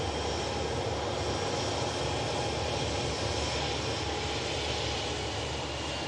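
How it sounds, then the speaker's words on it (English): EasyJet airliner arriving from London Heathrow, a continuous broad jet engine roar at moderate distance that holds fairly even throughout, with no voices. "EasyJet from London Heathrow arriving in."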